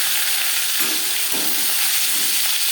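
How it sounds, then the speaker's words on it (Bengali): Marinated bhola fish slid into three spoons each of hot mustard oil and refined oil, giving a steady close sizzle and hiss with a couple of brief louder bursts as pieces hit the pan. "তিন চামচ রিফাইন্ড অয়েল গরম করে নিয়েছি এবার দিয়ে দেব ম্যারিনেট করে রাখা মাছ"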